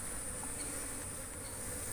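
Apis cerana honey bees at a hive box on a bee farm make a low, continuous buzz that holds steady and fairly faint, with no voices.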